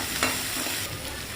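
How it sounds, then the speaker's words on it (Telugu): Sliced onions and a sprig of curry leaves frying and being stirred in hot oil, a steady close sizzle with a brief scrape of the spoon, no talking. "ఒక 2 ఆనియన్స్, కొంచెం ఒక రెమ్మ కరివేపాకు వేసి మంచిగా ఫ్రై చేసుకోవాలి"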